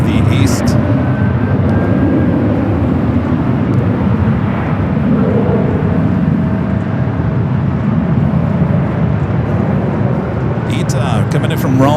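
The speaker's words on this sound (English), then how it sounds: "Ita coming in from Rome with the A350-900." An Airbus A350-900 arriving at LAX from Rome makes a loud, steady jet roar that fills the whole stretch, with a faint whine running through it.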